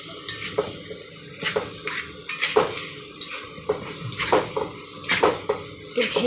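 Tadka masala being stirred in a pan: a spoon scrapes and clinks against the metal in repeated bursts over a soft sizzle, close and moderately loud.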